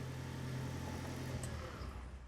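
A hybrid car's combustion engine starts up, giving a steady low hum and rumble that carries on for a couple of seconds with no talking.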